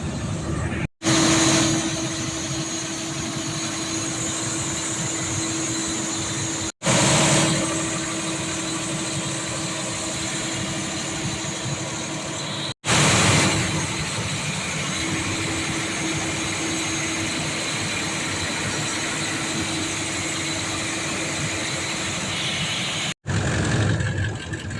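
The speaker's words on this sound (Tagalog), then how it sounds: "So itong generator yung i-check natin." A generator runs at a main work camp with a steady, moderately loud mechanical hum and drone. The tone holds even throughout, broken only by a few brief cuts, with no voices.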